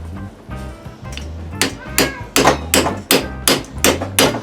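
Repeated sharp metallic hammer taps on a socket, pushing a tire onto an electric Razor go-kart wheel, about eight strikes in a steady rhythm that grows louder, close by, with a low rumble underneath.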